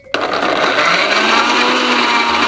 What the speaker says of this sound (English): And that's it for the first part, so I'll give that a blend.